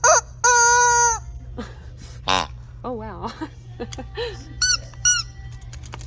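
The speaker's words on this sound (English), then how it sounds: "It's a rubber chicken." A rubber chicken dog toy squeezed indoors, giving loud, drawn-out honking squeaks in a few bursts, first long and then shorter, with people talking and reacting between them.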